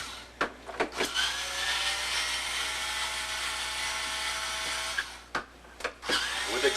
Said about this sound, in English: With a power screwdriver, it comes apart very quickly.